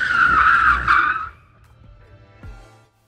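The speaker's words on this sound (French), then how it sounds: "une piste de freinage humide équipée d'un arrosage automatique et d'une plaque de granit centrale pour plus de dérapage" A car skidding on a wet braking track fitted with automatic sprinklers and a central granite plate: a loud tyre squeal for about a second, then a quieter engine rumble and a brief second skid near the end.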